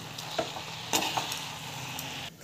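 Ingredients sauté in a pan with a soft, quiet sizzle and a few light scrapes and taps of a spoon stirring nearby.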